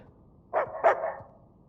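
Two close, sharp dog barks from the video game Uncharted 4, a quick pair followed by a short trailing tail, fairly loud against a quiet backdrop.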